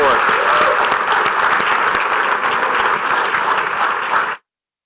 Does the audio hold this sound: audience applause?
yes